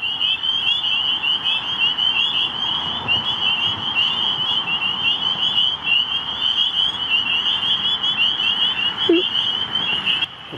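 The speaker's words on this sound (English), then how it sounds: "That's a spring peeper." A tiny spring peeper frog calls in a shrill, continuous high-pitched chorus during a spring salamander migration night, loud and steady throughout with a faint low bump near the end.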